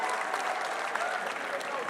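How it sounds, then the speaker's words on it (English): A crowd at a campus program claps steadily and loudly in a thick, continuous burst of applause. "So a big clap for the black t-shirt guys."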